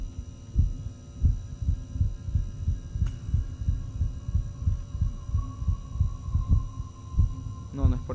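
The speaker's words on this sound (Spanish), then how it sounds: "Sigue el latido de tu corazón, del corazón." A steady, loud heartbeat thumps in the horror video game Inside Backrooms, regular double beats over a low hum, with a brief sharp tone and rising chirp near the end.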